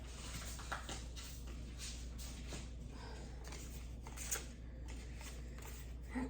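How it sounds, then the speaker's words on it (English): Tarot cards picked up and shuffled by hand indoors, a quiet run of soft riffling, flicks and papery taps repeating in uneven bursts over a low steady hum. "I'm just gonna pick up the cards"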